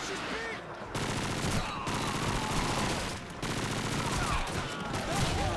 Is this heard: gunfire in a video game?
yes